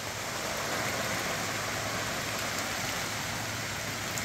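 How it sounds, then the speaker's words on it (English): Heavy rain drums steadily on a tent canopy at a campsite during severe weather, a dense, continuous hiss and patter that stays loud and even throughout with no voices. "Now is the heaviest rain we've had yet with this."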